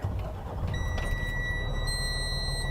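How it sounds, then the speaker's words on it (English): A 2021 Renegade Verona LE 40LTS RV airs up its suspension airbags while a steady, high electronic warning tone sounds continuously after a brief pause, quiet over a low engine rumble. "when it's airing up those airbags, it makes a beeping sound so you know not to leave"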